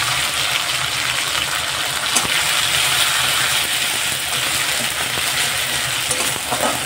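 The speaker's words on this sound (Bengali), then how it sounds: "খুব ভালো করে আমি মশলাটা নেড়ে নিচ্ছি।" Green chilli and ginger paste masala being stirred in a hot pan in a Bengali kitchen, a steady broadband sizzle with soft scraping from the spoon, continuous and close, with no talking.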